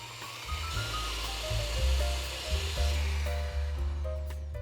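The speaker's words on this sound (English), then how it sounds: "Using an electric hand mixer, beat the eggs and sugar for 3 minutes until it's fluffy and pale." An electric hand mixer beats eggs and sugar for a gingerbread bundt cake batter, giving a steady motor whir that shifts in pitch as it works through the mixture, loud and close with no talking.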